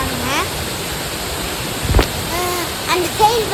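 A waterfall rushes in a constant broad wash, loud and near, at falls where people are about to bathe, with a brief thump and some faint chirping sounds over the steady roar.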